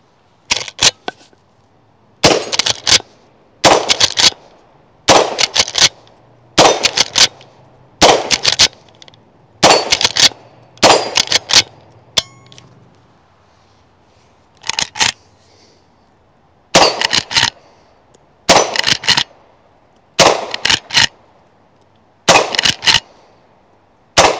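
Rapid pairs and short strings of loud, sharp rifle shots from a .357 lever-action rifle, Henry or Rossi R92, firing .38 Special at steel targets, each report ringing briefly off the steel, with pauses between strings.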